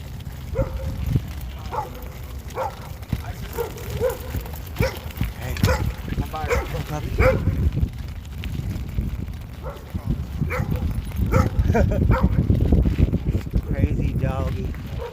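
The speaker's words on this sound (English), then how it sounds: "Crazy doggy." Dog barking in repeated sharp bursts scattered across a stretch of outdoor activity, fairly close, mixed with people talking and other farmyard-like noises.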